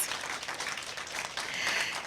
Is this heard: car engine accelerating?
no